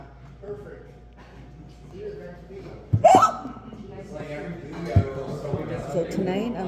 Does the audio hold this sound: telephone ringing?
no